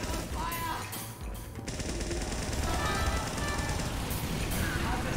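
In the video game Team Fortress 2, a syringe gun fires in a rapid continuous stream of light shots, with chaotic match noise and voices talking over it.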